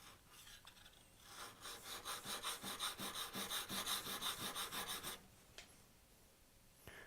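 A steel card scraper is rubbed back and forth on a sharpening stone in a fast, even rhythm of rasping strokes lasting about four seconds, then stops, leaving a few faint scrapes afterward.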